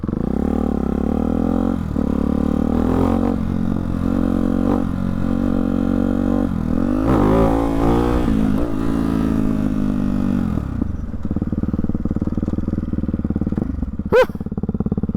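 Motorcycle fitted with a Hyper 698 S1 exhaust revving hard up through the gears, a loud continuous engine roar with pitch climbing and dropping at each shift, then a sharp click near the end.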